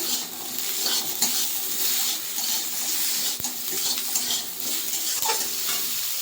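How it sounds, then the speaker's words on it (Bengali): Cashews and poppy seeds with tomato and green chili fry in a pan, a steady close sizzle broken by frequent stirring scrapes and a few sharp clinks. "কাজু আর পোস্ত নিয়েছি এখানে দিয়ে দেবো। একটু ভেজে নেবো এটা।"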